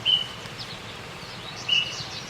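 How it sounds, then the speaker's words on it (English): A Baltimore Oriole gives two brief, high, fluty whistled notes about a second and a half apart. They are thin and moderately distant against a quiet background. "One of the big keys to identifying a Baltimore Oriole when he's around is that what they call their little two-note call"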